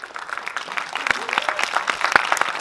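A crowd claps steadily at a film trailer screening, the sharp scattered hand claps building into sustained applause with a few voices rising over it.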